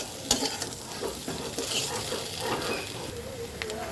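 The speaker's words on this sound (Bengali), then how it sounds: "এইবার সময় নিয়ে কয়েক মিনিট আমি এটাকে ভাজা ভাজা করব" Boiled potatoes fry with spices in a pan. A soft, continuous sizzle mixes with scraping stirs and a few sharp clicks of the spatula.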